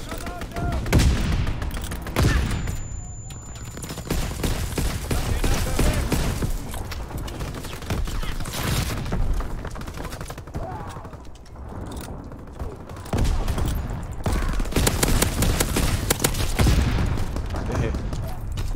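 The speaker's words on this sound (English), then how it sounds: "Fighter pilot inbound, strafing the target." Gunfire from a fighter pilot's strafing run in a multiplayer shooter, bursts of rapid shots and booms recurring across the scene, with someone talking over the action at times.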